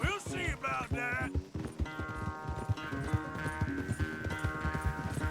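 Horse hooves clip-clopping in a steady riding rhythm in Red Dead Redemption 2, close and fairly quiet, mixed under a game music score with brief talk at the start.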